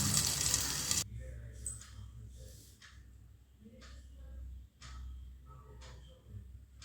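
Rava dosa batter on a hot dosa tawa gives a loud, bright sizzle for about a second, then drops to a quiet background with faint ticks and crackles while someone talks.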